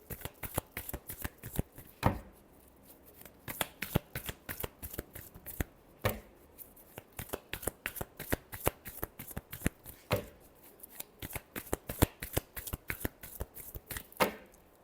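Tarot cards shuffle close by in a long run of quick papery riffles and slaps, with several sharper bursts standing out, and no voice over the sound.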